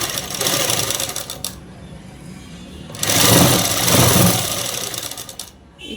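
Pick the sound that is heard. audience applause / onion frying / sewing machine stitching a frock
sewing machine stitching a frock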